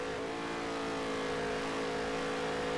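Steady, sustained race car engine roar from the NASCAR Heat racing game, holding a constant high drone under throttle for the whole stretch with no talking.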